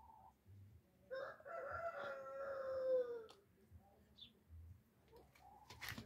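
A rooster crows once, loud and drawn out, among small hens in a farmyard pen, with soft clucks and low background rumble before and after.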